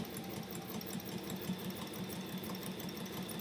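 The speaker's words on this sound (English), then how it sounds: "I'm just sewing right around the edge" A sewing machine stitches steadily around the edge of a piece of fabric, its motor giving a continuous rapid mechanical whir and rattle, close and quiet, with no talking.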